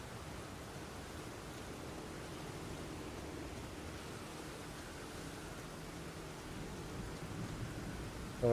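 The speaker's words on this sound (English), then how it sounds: "Fuck, it's raining." Steady rain falls in the Elden Ring video game, a constant even hiss of moderate loudness that continues unbroken without voices.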